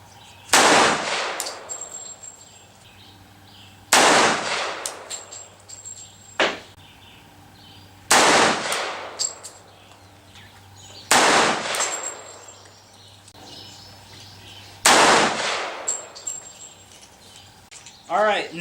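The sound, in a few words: pistol shots firing 180 grain cast lead bullets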